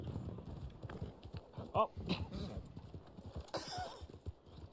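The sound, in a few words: horse hooves and whinny in Red Dead Online video game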